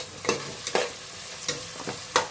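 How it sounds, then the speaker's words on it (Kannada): Onions fry in a pan for red chilli chicken biryani, a steady close sizzle broken by about five sharp scraping stirs of a spoon at a loose, uneven rhythm, with no voices. "ಇದು ಸ್ವಲ್ಪ ಬ್ರೌನ್ ಕಲರ್ ಬರೋವರೆಗೂ ಫ್ರೈ ಮಾಡೋಣ ಇದನ್ನು, ಆನಿಯನ್ನ."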